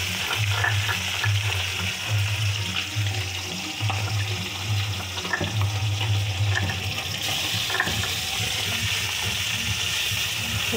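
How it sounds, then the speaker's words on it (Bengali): Pabda fish frying in hot oil in a pan, a loud, steady sizzle with crackling spatter that runs throughout and swells in occasional pulsing bursts. "এবার এগুলোকে আমি ভেজে নেবো একটা একটা করে"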